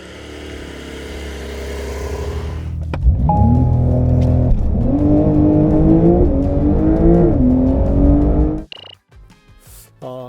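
Porsche 911 Turbo S, 662 hp, on winter tyres, launching hard from a standstill, its engine note climbing loud and close through rising gear-by-gear pitch sweeps before cutting off abruptly near the end.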